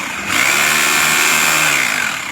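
An ENZO 26 mm three-mode rotary hammer drill runs loud and close with a steady high motor whine that starts abruptly, holds for about two seconds, then eases off slightly.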